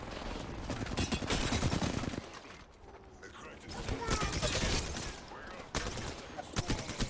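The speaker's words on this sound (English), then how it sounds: "It's another team shooting at us." Gunfire from an enemy team in the video game Apex Legends, dense bursts of automatic shots and rattling fusillades in quick succession, with a short lull midway.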